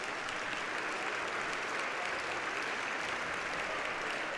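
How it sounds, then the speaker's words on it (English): Basketball fans in an arena applaud an injured player walking off, a steady, dense wash of clapping from the crowd that fills the whole moment. "Good round of applause here from the Lightning fans."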